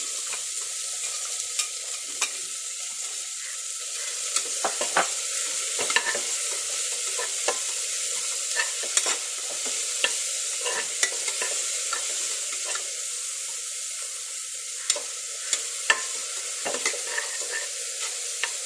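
Onion fries in hot oil with cinnamon, cloves and cumin for chicken shorba, a constant bright sizzle with scattered crackles and occasional spoon taps across the whole stretch, no speech.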